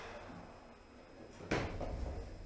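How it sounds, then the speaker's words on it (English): After the door close button is pressed, a ThyssenKrupp/Nashville hydraulic elevator door in a shopping centre slides shut, a soft rush ending in a faint bump and a low hum. "Door close button works."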